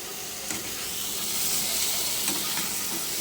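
Mustard and green chilli paste, ground from white mustard seed and fresh green chillies, hits a hot pan, giving a steady close sizzle and hiss with a few stirring scrapes, no voices.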